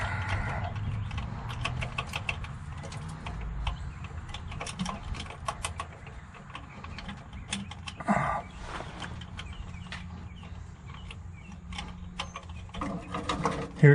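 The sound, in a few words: ratchet removing truck starter bolts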